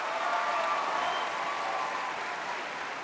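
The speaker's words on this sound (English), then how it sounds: "Can we get a round of applause for the lights?" Audience applause at a cosplay competition, a steady dense wash of many hands clapping together, sustained and even throughout with no talk over it.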